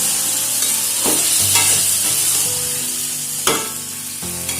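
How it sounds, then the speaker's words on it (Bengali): New potato curry with boiled green peas and a splash of water being stirred and fried in a pan, a steady loud sizzle with occasional spatula scrapes, close and continuous, no voices. "আর এর মধ্যে সামান্য একটু জল দিয়ে দেবো দিয়ে খুব ভালো করে আবারও কষিয়ে নেব"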